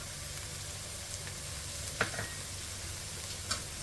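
Mint leaves, coriander and a little salt fry in a pan with a soft, steady sizzle, faint and close, with a couple of light stirring clicks and no talk.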